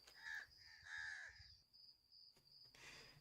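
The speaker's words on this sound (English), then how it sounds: "Of course it's crow noises." Crow caws played back from a small handheld audio recorder, two harsh calls in quick succession followed by a faint thin electronic tone, then another burst near the end.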